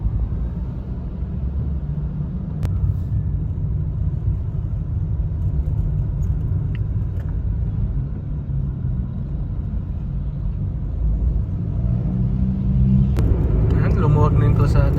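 Steady road traffic heard from inside a moving vehicle on a congested road near Los Baños, a continuous low engine and tire rumble with a few brief clicks and no let-up.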